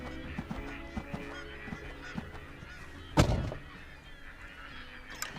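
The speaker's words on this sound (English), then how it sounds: "It's probably a combination of pintail, green-winged teal." Wild ducks, a mix of pintail and green-winged teal, calling at a Great Salt Lake refuge during fall migration: a steady background of honking, quacking waterfowl with one louder, nearer burst partway through.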